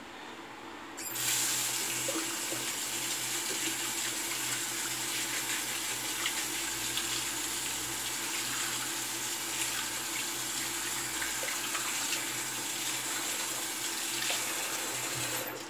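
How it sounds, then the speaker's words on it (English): Tap water runs steadily from a faucet into a sink while a shaving brush is rinsed, a continuous close hiss starting after a brief quieter moment and holding level throughout without talk. "little brush rinse."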